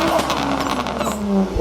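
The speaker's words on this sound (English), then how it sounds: "it's the Hyundai Tiburon V6 engine" A Hyundai Tiburon GT V6 engine revving up close, a loud growling rise and fall in a short burst with a voice speaking over part of it.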